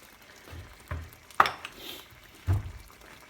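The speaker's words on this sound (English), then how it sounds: "Give that a mix." Cooked chicken with added salt stirred in a pan, a few soft scraping and clinking strokes of a utensil against the pan with a brief sharper knock, close and fairly quiet over a low sizzle.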